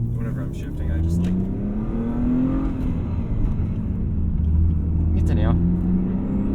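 A 1992 BMW E36 325i's engine drones steadily inside the cabin, its pitch sweeping up and falling back as the gears change, while a voice speaks briefly over it.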